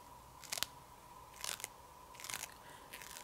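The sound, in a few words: peeling planner stickers off sticker paper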